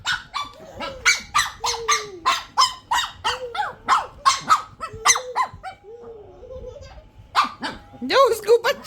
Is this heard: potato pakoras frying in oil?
no